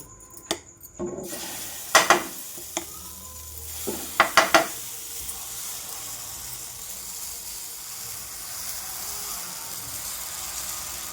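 Sago dosa batter sizzling on a hot pan: a steady, moderately loud frying hiss, with a few sharp utensil clinks and scrapes in the first seconds before the sizzle settles.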